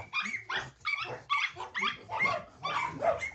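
Dogs in a breeding kennel bark in a quick run of about eight sharp yips and barks, some whimpering, fairly close and alone with no talk over them.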